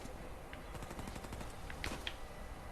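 Gunfire from the video game Uncharted 4: a rapid burst of quiet shots in quick succession, a few sharper cracks standing out near the end, with no voices.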